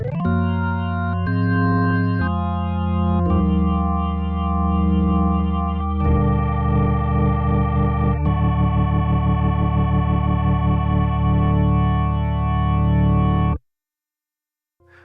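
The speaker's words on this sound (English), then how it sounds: "You can use the rotary or VK rotary tone multi-effects to create an authentic organ" A sustained organ chord from a Roland SH-4d synthesizer swirls with a rotary-speaker wobble, shifting through several chord changes, loud and steady, then cutting off abruptly near the end.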